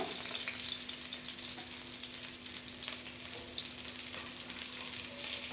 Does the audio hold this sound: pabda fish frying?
yes